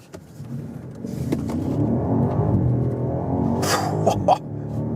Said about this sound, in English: we can hit the accelerator pedal